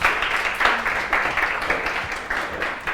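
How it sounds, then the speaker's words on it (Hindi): A class claps for a student named Diya, a dense patter of many hands clapping steadily and fairly loud throughout, with no talk over it. "दिया के लिए एक बार ताली बजा दीजिए सब लोग।"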